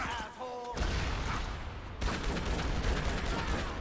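Gunfire from Dead Rising 3 sounds as dense, sustained bursts of shots that fill the whole clip, loud and continuous, with a brief tonal game sound near the start and a fresh surge of firing halfway through.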